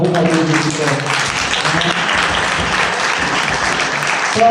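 Congregation clapping loudly in a church during a hymn of praise, a steady dense roar of applause throughout, with a voice and some tonal sound underneath at the start.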